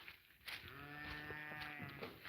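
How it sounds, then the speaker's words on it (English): A goat on a farm in the Highlands of north-east Scotland gives one long wavering bleat, fairly close and clear, lasting about a second and a half over quiet outdoor background. "Hi goats."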